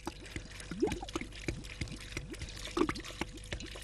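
Water poured into a pot over meat for a traditional shepherds' caldereta cooked outdoors in the mountains; an uneven trickling and splashing runs throughout at close range, with occasional louder glugs and no voices.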